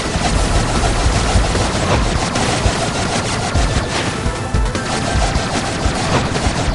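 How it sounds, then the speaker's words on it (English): Gunfire in a video game lays down cover fire as dense, rapid automatic shots rattle continuously and loudly with occasional heavier booms, no talk over it. "I'll lay down cover fire."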